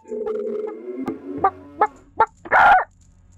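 A chicken in the video game Zelda: Majora's Mask clucks in a short burst, then gives several sharp single clucks and ends with a louder squawk, all clear and close.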